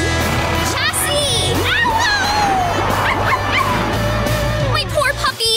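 Whimpering and high yips from a cartoon puppy floating away in a soap bubble, mixed with several voices and cartoonish effects, fairly loud and busy throughout.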